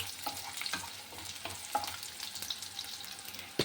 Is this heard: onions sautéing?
yes